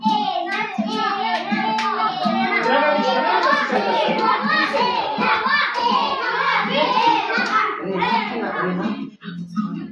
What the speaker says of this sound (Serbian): aplauz za Milicu